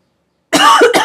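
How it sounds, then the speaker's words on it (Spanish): A single sharp cough bursts out after a brief silence, close and loud, followed by a shorter second cough. "Perdón por la tos."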